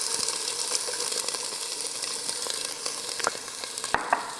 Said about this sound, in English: And I'm going to saute that for just a couple minutes until it begins to soften.